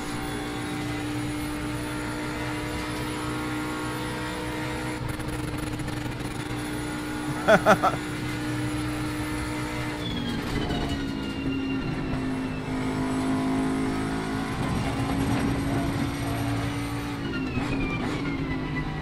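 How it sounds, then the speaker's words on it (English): A Bentley GT3 race car in Assetto Corsa Competizione at Paul Ricard holds its engine on the rev limiter, giving a loud, steady, buzzing drone with a brief sharper burst midway, and no voices. "On the limiter. Never heard a car on the limiter before."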